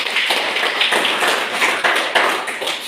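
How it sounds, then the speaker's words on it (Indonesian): A classroom of students clapping together after a maths exercise, a dense run of hand claps with a few louder, rhythmic beats standing out, close and fairly loud, with no talking. "kita tepuk tangan dulu"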